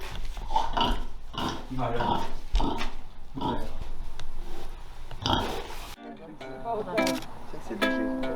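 Pigs grunt and oink on a farm, close and loud in repeated rough bursts, while people talk over and between the grunts.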